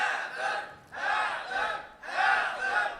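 A crowd at a religious gathering chants slogans in unison, three loud, rhythmic bursts of many voices shouting together, each swelling and fading with short gaps between them.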